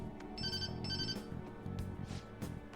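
A phone call rings in the video game Persona 5 Royal: a bright electronic ringtone melody plays in repeated, evenly spaced bursts, loud and clear with no speech.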